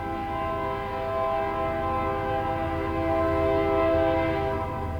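A train rumbles past steadily with a sustained horn-like drone layered over low mechanical noise, loud and continuous throughout.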